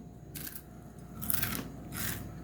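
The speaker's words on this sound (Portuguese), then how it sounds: "agora eu vou mostrar pra vocês como que esse biscoito é crocante" Three crisp crunches from biting a homemade sugar-free, gluten-free, dairy-free sesame and orange cracker, close to the microphone and fairly quiet over a low steady room hum.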